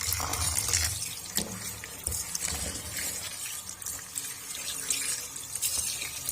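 Tap water splashes and runs over chopped bathua greens being washed in a kitchen, a close, continuous gurgling with irregular splashes and drips throughout.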